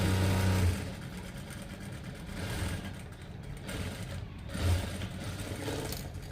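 A sewing machine stitching fabric runs in a steady mechanical whir throughout, with brief louder bursts near the start and toward the end as the stitch speed changes; no one speaks.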